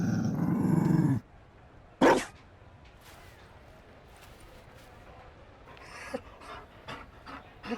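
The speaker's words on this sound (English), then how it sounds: "You found a dog?" A Mabari war dog in Dragon Age: Inquisition: a loud growl at the start, then a short bark-like burst, followed by quiet panting and soft snuffling yips over low ambience.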